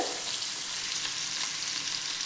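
Fish frying in hot oil, giving a steady, close, continuous sizzle with no voices.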